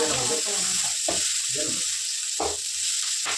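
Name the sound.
onions and tomatoes frying for mutton curry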